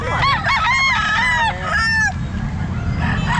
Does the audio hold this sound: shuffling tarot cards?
no